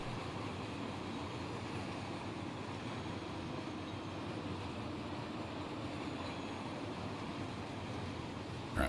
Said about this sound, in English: We got a big old noisy train heading past.